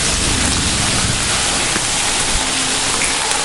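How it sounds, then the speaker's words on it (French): Heavy rain falls at the abandoned Canfranc railway station, a loud, dense, unbroken hiss of drops close by, with no voices. "Vu qu'il pleut, et tempête de neige."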